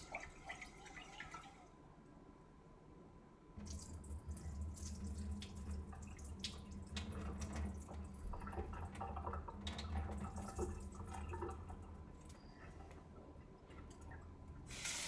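Rice being rinsed for a beef bowl under a running kitchen tap, water streaming steadily with splashes and drips into a bowl, the flow growing louder and fuller partway through and continuing to the end.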